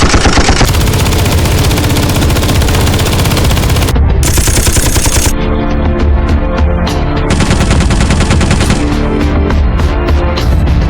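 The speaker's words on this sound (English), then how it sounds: "The man responded with continuous fire toward the officer, but the officer stayed safely behind cover." Continuous automatic gunfire during an armed standoff, a loud, dense rattle of rapid shots lasting the whole stretch, with brief shifts in tone but no pauses and no voices.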